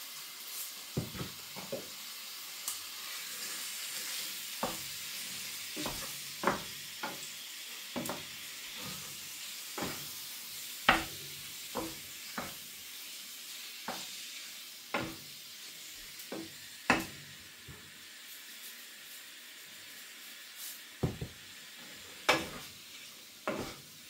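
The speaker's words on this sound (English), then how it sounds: "Whilst the beef is browning" Stewing steak browns in hot oil in a pan with a continuous close sizzle. Frequent sharp clacks and scrapes of stirring against the pan mark the sizzle at irregular intervals.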